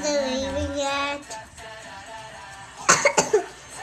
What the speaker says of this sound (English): I know why he's coughing.